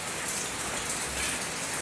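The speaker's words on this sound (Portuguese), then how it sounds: "tô vendo um pouquinho da chuva aqui" Steady rain falls outside a balcony, a dense even hiss of drops on surfaces with no pauses, fairly close and with no voices over it.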